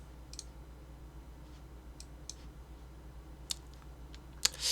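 Mouse clicking on a stock trading screen: a handful of faint, sparse, sharp clicks at irregular intervals against a quiet room hum, with no talking.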